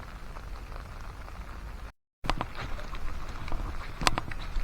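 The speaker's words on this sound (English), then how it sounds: "It's raining out." Steady rain falls over a campsite with a campfire burning, a soft continuous hiss with occasional sharper drops, no talking.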